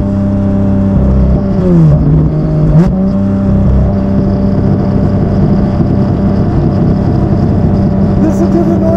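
A Porsche 911 GT3 (992) with a straight-pipe exhaust revs and accelerates with a loud, close, droning engine note. Its pitch swoops down briefly, then settles into a steady roar.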